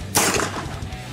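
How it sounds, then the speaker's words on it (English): A Tippmann Armory 9mm Gatling gun fires a single round, one loud sharp report that rings out and decays over about a second. "The round drops out of the magazine into this one, starts chambering around, and then by the fourth click, it will fire."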